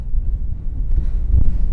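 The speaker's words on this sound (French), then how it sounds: "Et là, vous avez le vent." Wind blusters over the Biville dunes in Normandy, a steady low roar buffeting the microphone with a few stronger gusts and no voices.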